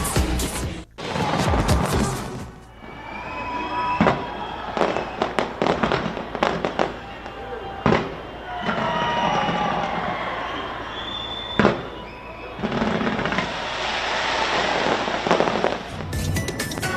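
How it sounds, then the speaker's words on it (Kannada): Fireworks burst over Sydney, Australia at a New Year celebration, a dense run of loud cracks and booms with crackling, tightly packed across the whole stretch, heavier clusters near the start and end. "ಆಸ್ಟ್ರೇಲಿಯಾದ ಸಿಡ್ನಿಯಲ್ಲಿ ಪಟಾಕಿ ಸಿಡಿಸಿ ಜನ ಸಂಭ್ರಮದಿಂದ ಹೊಸ ವರ್ಷಕ್ಕೆ ವೆಲ್ಕಮ್ ಮಾಡಿದ್ದಾರೆ."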